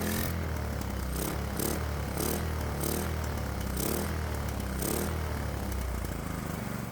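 A Predator 212 small engine fitted with a swapped, fully adjustable carburetor runs steadily and loudly up close, its dense mechanical clatter pulsing evenly the whole time.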